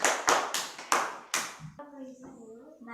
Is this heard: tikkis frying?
no